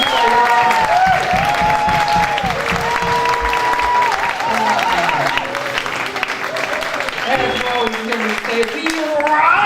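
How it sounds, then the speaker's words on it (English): A church congregation applauds loudly and steadily through a round of applause at an anniversary service, with cheering voices mixed in and music playing underneath. "One more round of applause."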